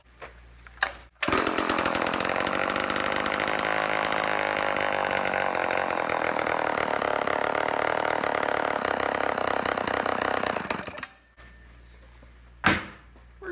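A Homelite XL12 chainsaw runs close and loud in a steady continuous drone for about ten seconds, then cuts off, leaving brief quiet with a couple of short knocks.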